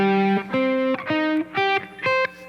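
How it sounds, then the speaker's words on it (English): Clean electric guitar notes ascend a minor arpeggio one at a time, each plucked note ringing briefly with short gaps between, played alone and close. "What you want to do is just ascend up the arpeggio."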